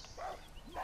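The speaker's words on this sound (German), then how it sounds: "ein scheiß Hund war bei mir" A dog in the video game Far Cry New Dawn gives two short, quiet yips or barks in under a second, faint and somewhat distant.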